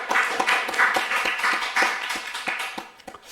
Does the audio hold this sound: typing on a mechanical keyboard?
no